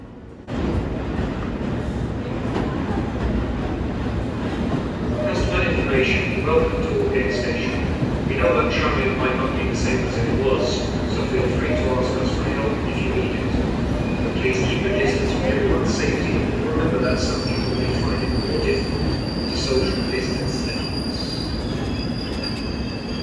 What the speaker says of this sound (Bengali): আমরা আসার সাথে সাথেই একটা ট্রেন চলে এসেছে, তো আমরা এই ট্রেনে করেই বাসায় যাব।